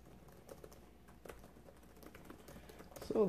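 Keys tap on a Lenovo Y540 gaming laptop keyboard, quiet scattered clicks at an irregular pace, close and soft, before a louder burst of handling noise at the end.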